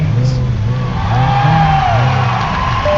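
Toy-scale race car engines start and rev at a Hot Wheels Custom Motors Cup race, a continuous loud engine drone with rising and falling pitch sweeps, steady throughout with no pause.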